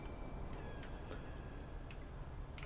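Several cats meow in the video game Stray, short separate cries scattered over a steady background hum, fairly faint and without talk.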